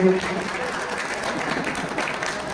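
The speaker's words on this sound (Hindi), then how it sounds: "उनके लिए ज़ोरदार तालियां होना चाहिए" An audience at a pigeon-fancier tournament prize distribution in Latur applauds a guest ustad, a steady moderate wash of clapping that holds evenly throughout.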